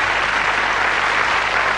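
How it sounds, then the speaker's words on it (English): Studio audience applause after a magic trick on a 1989 BBC television magic show, a dense, loud, even roar of clapping filling the whole short stretch with no break. "Let's have a big round of applause for it."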